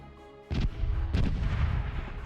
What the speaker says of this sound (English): Starboard cannons are ready to fire!